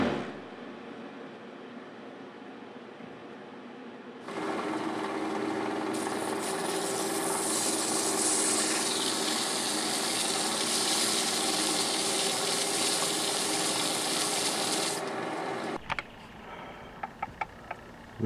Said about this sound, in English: It was saw cut on every side, and I'm flattening it.